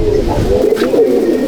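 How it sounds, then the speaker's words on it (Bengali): Pigeons in a loft coo loudly and near in a continuous low throaty murmur. "এই দেখো পায়রা, টাল পায়রা ছেড়ে দিয়েছে স্ট্যান্ডিং"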